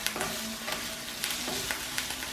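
Cinnamon bark tossed into frying onion for a chicken korma, a soft steady sizzle broken by light rhythmic taps and scrapes of a utensil against the pan.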